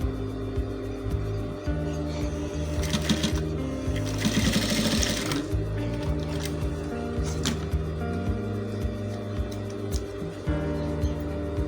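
A sewing machine stitching the neck seam of a vintage shirt, a steady close mechanical whirr and needle clatter running almost continuously, with brief bursts of rustling fabric handling in between.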